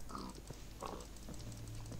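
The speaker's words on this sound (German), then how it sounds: "Das ist ein Schwein, Dieses epische Geräusch." A pig in the Minecraft game Tekkit Lite gives a couple of short grunting oinks over a low background hum, faint and close.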